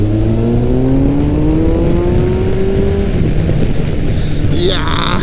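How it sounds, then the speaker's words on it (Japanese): A Kawasaki inline-four big motorcycle engine revs up hard and close, its pitch rising smoothly through acceleration before a gear change, with faint wind noise. "マルチ、川崎マルチの音、"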